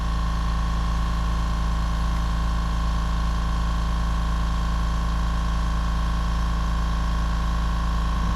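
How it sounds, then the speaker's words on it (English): An air compressor runs in a painting workspace, a steady, even mechanical hum with a fast regular pulsing throb, constant and unbroken throughout, with no talk. "as soon as I touch the record button, the air cleaner or the air compressor comes on"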